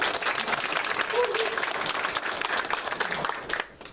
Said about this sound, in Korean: 뜨거운 박수로 맞으시기 바랍니다.